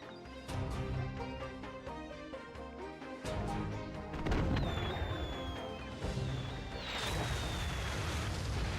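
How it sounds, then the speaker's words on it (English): Artillery fire in the video game Skylanders Spyro's Adventure, heard as a series of heavy booms and crashing impacts over a background music score, with a whistling streak of incoming shells toward the end. "We've been spotted by their artillery!"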